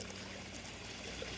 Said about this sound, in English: I have my nice big watering can right here, and we're gonna go ahead and just put this around the plant